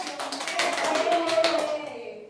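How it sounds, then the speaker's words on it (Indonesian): A school class claps for a student during a teaching practicum: a short, brisk burst of many hands clapping, close and fairly loud, with a voice speaking over it. "tepuk tangan untuk Mbak Citra."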